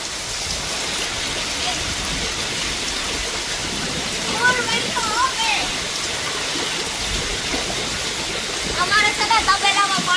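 Heavy, record-breaking village rainfall, heavy enough to flood a cattle shed, pours in a dense, unbroken hiss, loud and close, while brief voices rise faintly through the downpour.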